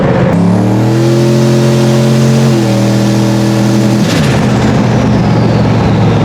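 A turbocharged truck engine accelerates hard under boost, its loud, steady drone climbing in pitch before a brief shift about two-thirds through, then pulling on, with no talking.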